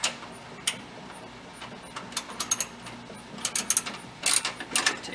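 A ratchet clicks away at a 10 millimeter bolt on a Prius battery, quiet bursts of rapid metallic ticks, sparse at first, then quicker clustered runs toward the end, heard alone against a low hum.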